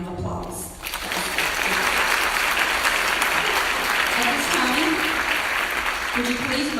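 An audience gives a round of applause for award recipients at the 2018 SeHealth Regional Community Health Awards. The dense, even clapping starts abruptly and continues steadily at a strong level.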